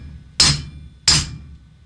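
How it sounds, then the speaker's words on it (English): A hammer strikes another hammer resting on a washer while balancing a Steadicam rig, giving two sharp metallic taps about two-thirds of a second apart, close and clear over a quiet background. "And I basically just take the other hammer, and just strike where I need to."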